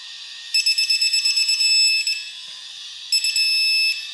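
An electronic beeping tone sounds from a torque wrench during a Toyota 2JZ-GTE non-VVTi engine build, signalling set torque in two bursts: a pulsing run of short beeps turning into a held tone, then a second steady tone.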